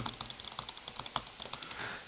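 Clicking of a budget Lix gaming mouse with Kailh switches, a quick series of sharp, fairly loud clicks in an irregular rhythm, heard up close with no talking.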